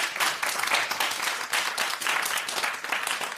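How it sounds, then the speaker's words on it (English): A TV studio audience at a detective quiz show applauds in a loud, sustained wave of clapping, swelling and dipping in rhythmic surges throughout. "Give them a round of applause"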